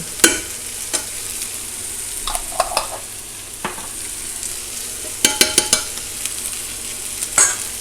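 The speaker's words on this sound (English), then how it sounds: "And then just mix it, brown it." Mapo eggplant sauce sizzles in a pan as it is mixed and browned, with scattered clicks and taps of a utensil against the pan over a continuous frying hiss.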